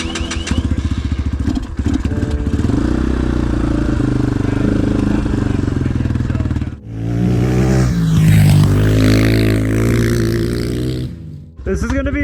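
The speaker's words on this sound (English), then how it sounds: "Very gentle throttle ramp." A cheap Walmart 250cc motorcycle engine hums steadily, then rises through a gentle throttle ramp, loud and close, with a voice speaking over it.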